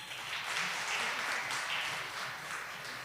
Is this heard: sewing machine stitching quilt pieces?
no